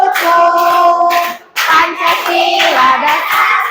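A group claps along in time while voices sing a patriotic Indonesian song, the steady rhythmic hand claps running under the melody and breaking off briefly midway before resuming.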